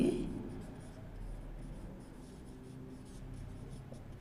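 Chalk or marker scratches faintly across a board as a chemistry teacher writes out an equation, a soft, intermittent rubbing with no voice in between.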